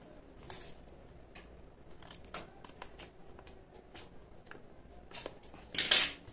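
Scissors snipping through a paper bag during a craft project, giving a series of light, dry cuts and crinkles at an irregular pace, close and fairly quiet.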